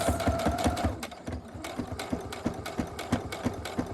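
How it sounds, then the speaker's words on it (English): A sewing machine stitching through a fabric face mask runs steadily with a rapid, regular rhythmic clatter, close and fairly loud throughout, with no talking. "as I stitch it all the way to the end"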